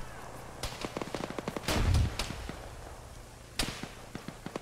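Arma video game gunfire crackles in a rapid burst of sharp shots with a few heavier booming reports, moderately distant and uneven in rhythm, between brief gaps.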